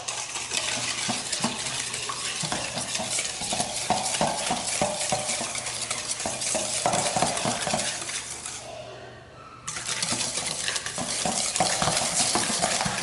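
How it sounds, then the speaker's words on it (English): A whisk beats eggs into blueberry muffin batter in a bowl, producing rapid, steady metallic clatter up close. The whisking pauses briefly near the end, then resumes just as fast. "Whisk it pretty fast, honestly, because you don't want it to scramble."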